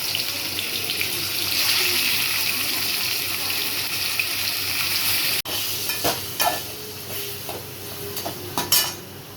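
Chicken pieces frying in hot oil for a chicken chukka fry: a steady, dense sizzling hiss that breaks off and then returns as lighter crackles and a few clinks from the pan.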